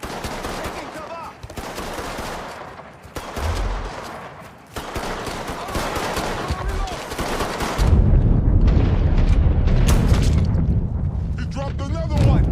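Shotgun blasts and other gunfire crack through a firefight in Mafia 3, loud heavy bangs and rattling shots under frequent shouted talk, growing denser and booming toward the end.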